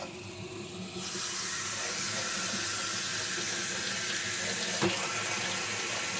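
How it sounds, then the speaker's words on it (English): Running tap water pours steadily into a sink while a makeup brush is rinsed; a constant close hiss and splash continues throughout with no talking. "okay, I'm going to go ahead and rinse this off."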